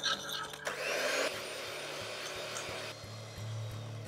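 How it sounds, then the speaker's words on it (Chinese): Electric hand mixer whisking egg yolks with sugar in a bowl at high speed, a loud whirring motor hum with rattling beater strokes against the bowl, steady throughout with no talk. "我们开电动打蛋器高速"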